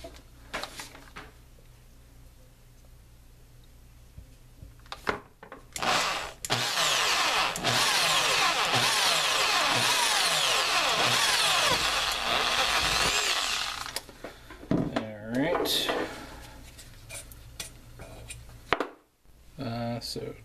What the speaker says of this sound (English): And hope my drill can handle that.